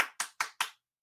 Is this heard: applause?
yes